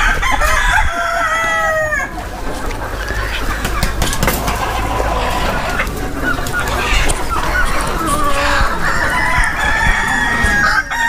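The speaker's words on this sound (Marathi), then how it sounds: "हे ज्या संपूर्ण कोंबड्या आहेत 700 कोंबड्या आहेत" Free-range country chickens and roosters on a farm of about 700 birds: a busy flock clucks steadily while roosters crow repeatedly, close and loud, with scattered honking calls mixed in.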